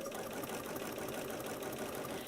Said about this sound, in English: now I'm quilting it using a narrow zigzag on my sewing machine